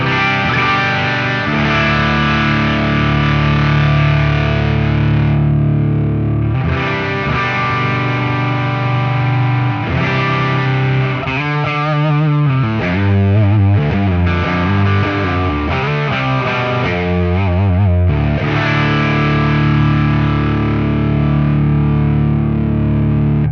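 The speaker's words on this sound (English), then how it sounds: "Here you get nice and gritty when you move that tone knob over." Electric guitar played through a distortion pedal, loud and close with sustained gritty chords and riffs, the tone shifting as the tone knob is turned, running continuously with no talking.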